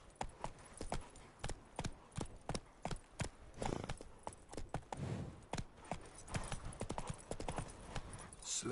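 Roach, a horse in the video game The Witcher 3 on PS5, trotting with crisp, evenly spaced clip-clop hoofbeats, close and clear over a soft ambient background.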